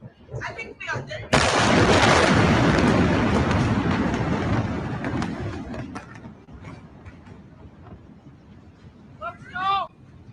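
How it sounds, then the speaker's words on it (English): A massive port explosion in Tianjin erupts as a sudden, very loud broadband blast that roars on for several seconds before fading into a lingering rumble, with excited voices shouting before and after. "that was the Tianjin explosion"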